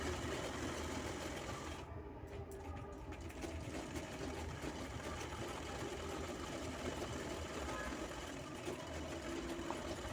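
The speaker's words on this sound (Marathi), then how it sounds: "आतून शिलाई घ्यायची आहे सरळ पूर्ण राऊंड अशी शिलाई घ्यायची आहे" A sewing machine hums steadily, stitching a straight seam all the way around the inside of a small handmade bag, with a continuous close mechanical whir and no talking.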